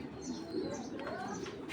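Soft, low cooing from a big red Chuli pigeon, a steady murmur with faint chirps and light rustling nearby.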